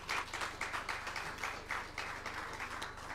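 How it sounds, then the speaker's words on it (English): An audience at a Ghanaian engineering excellence awards ceremony claps in a steady, moderately loud burst of applause lasting the whole moment, with no voices over it. "I think we should applaud ourselves."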